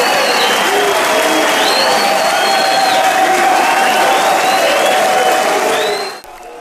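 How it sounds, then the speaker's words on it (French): Party members of Agathon Rwasa applaud steadily at a political general assembly, a dense, loud wash of clapping with a few whistles and murmurs, holding for several seconds before abruptly dropping off at the end. "Ces applaudissements sont ceux des membres d'Agathon Rwasa"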